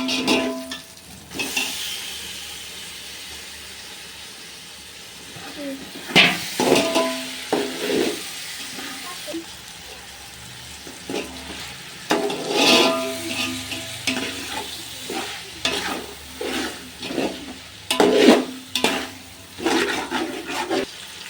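Chopped tomatoes sizzle and fry in a pan for home-made chicken biryani, with a steady hiss broken by bursts of louder crackling and stirring scrapes that come and go through the clip.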